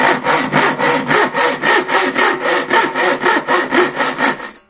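Steady back-and-forth sawing through wood with a Chinese bow saw, normal tooth set, no pressure, about a dozen even rasping strokes in quick rhythm, close and loud, with no talking.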